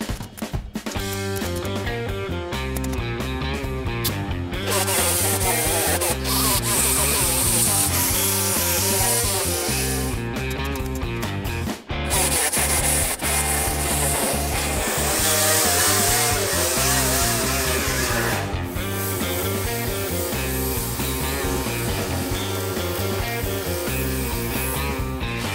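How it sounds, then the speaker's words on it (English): Welding on a Ford Model A trunk lid repair part in a home garage: a loud, continuous harsh crackling buzz that runs almost nonstop, with one brief break partway through. "so just gonna weld it up."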